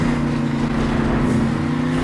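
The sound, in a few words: El Toro Loco monster truck engine racing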